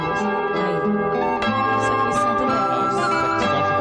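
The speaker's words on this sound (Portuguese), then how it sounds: "tocando o sino" A hand bell gives a bright, ringing tone that sustains with repeated strikes and shimmering overtones, loud and continuous throughout.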